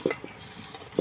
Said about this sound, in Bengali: যতক্ষণ না পেঁয়াজ পুড়ে একদম কালো হয়ে আসবে, লঙ্কা পুরো ভস্ম হয়ে যাবে, ততক্ষণ আমি লাগাবো